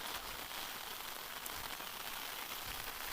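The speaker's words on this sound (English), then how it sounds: "All shops are closed due to this heavy rain." Heavy rain pours in a constant, dense hiss that stays even from start to finish, quiet and somewhat distant, with no voices.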